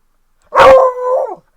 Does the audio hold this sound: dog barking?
yes